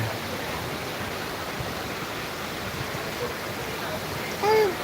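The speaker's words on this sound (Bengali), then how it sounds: "যাত্রাবাড়ির শনি রাখরা প্রচুর বৃষ্টি হচ্ছে" Heavy rain falls in Jatrabari as a steady, moderately loud wash of hiss, with a brief tonal chirp or voice-like sound near the end.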